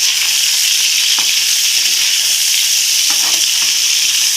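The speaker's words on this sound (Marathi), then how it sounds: "ह्या भेंडीला तेलात चांगलं परतावून घ्यायचं आहे" Okra sautéing in oil in a pan, a loud, continuous bright sizzle with faint scraping stirs now and then.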